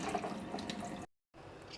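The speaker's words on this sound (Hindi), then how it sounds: "अब मैं टैप को बंद करूँगी।" Water runs steadily from a kitchen tap into a sink while offal is washed, a close, even rush that cuts off abruptly, then resumes more faintly after a brief silence.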